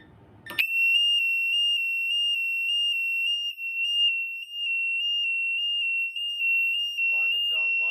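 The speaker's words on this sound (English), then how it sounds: "the siren will go off once it's finished." A Safe House 49-485 home alarm system siren bursts on after a brief low rumble and holds a piercing, steady high-pitched tone, loud and close, with a faint voice creeping in at the end.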